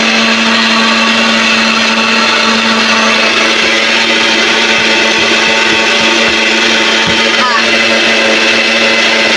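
A new electric mixer grinder grinding ginger, a loud steady motor whine that holds evenly throughout with a slight change in tone near the end.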